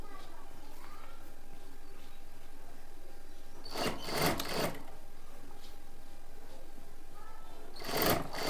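A sewing machine stitching a simple blouse runs in two short bursts of rapid mechanical clatter, a longer run in the middle and a brief one near the end, separated by quiet room tone.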